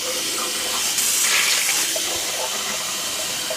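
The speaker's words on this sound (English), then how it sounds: "I'm just going to get some water for this spatula." Tap water runs steadily from a kitchen faucet onto a spatula used for smoothing mash, a continuous close hiss and splash that swells briefly midway, with no talking.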